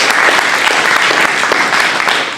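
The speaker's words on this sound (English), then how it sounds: "So we can give them a round of applause just for making this happen tonight." An audience gives a loud, sustained round of applause at an evening lecture event to thank its sponsors, the dense clapping staying even throughout with no talking over it.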